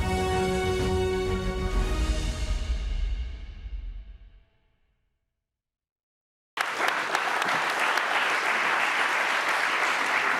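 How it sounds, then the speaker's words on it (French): Audience applause at a corporate conference opening in France, loud and dense, fading out over about four seconds into silence before a second strong burst of clapping resumes and holds steady. "Merci pour ces applaudissements."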